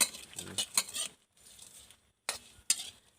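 Crickets are dry-roasted in a pan over low heat, with close, intermittent bursts of scraping, rattling and clinking as they are stirred and tossed.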